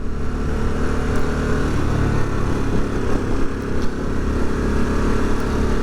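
A 2022 Harley-Davidson Sportster S motorcycle ridden on the road in second gear, its engine giving a steady close throbbing drone with slight fluctuations and wind rush throughout.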